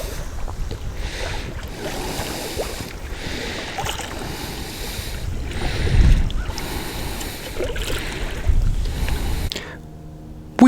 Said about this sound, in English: we are just paddling along